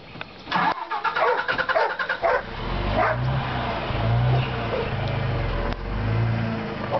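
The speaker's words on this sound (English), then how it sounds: "You're gonna get the UPS truck." A UPS delivery truck's engine starts and revs as it pulls away, while a dog barks sharply several times near the start, followed by the steady low drone of the departing vehicle.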